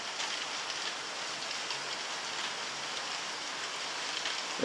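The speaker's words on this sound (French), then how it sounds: "là c'est le bruit de la pluie qu'on entend" Steady rain falls in a constant soft hiss and patter, close and unbroken, with no voices.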